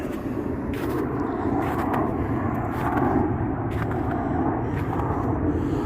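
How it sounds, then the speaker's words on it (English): Airplanes pass high over a historic cemetery, giving a low, steady drone that swells slightly and stays faint and distant throughout, with no talking. "Got airplanes flying overhead"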